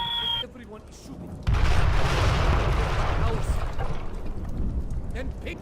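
Sustained, loud gunfire from several shooters in a firefight in Splinter Cell: Double Agent (2006), a continuous rumbling barrage that kicks in after a quieter opening and carries on to the end, with voices mixed underneath.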